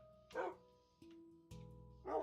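A Minecraft wolf barking, two short barks at the start and the end of the clip over a quiet background drone, with a soft electronic tone between them.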